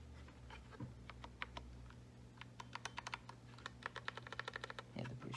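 Clicky keystrokes on a keyboard fitted with new HyperX keycaps, quiet at first, then a quick, uneven burst of close-up typing that thickens into rapid clatter near the end, over a low steady hum.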